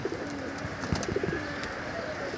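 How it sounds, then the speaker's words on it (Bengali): Pigeons at a sky pigeon loft, with soft cooing and a few wing flutters close by over a steady background hum, some birds taking short flights out of the loft. "কিছু কবুতর একটু উড়বে।"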